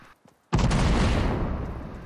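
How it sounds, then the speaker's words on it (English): A big explosion goes off in the video game Fortnite with a sudden loud, deep boom. A broad rumbling tail then fades slowly over about a second and a half. "Y'all didn't hear that big explosion?"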